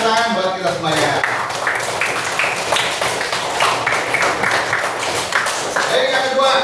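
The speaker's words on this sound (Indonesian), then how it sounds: "Tepuk tangan buat kita semuanya." A classroom of students clapping their hands together during a lesson, a dense burst of many small claps running through the whole stretch, with a voice speaking at the start and again near the end.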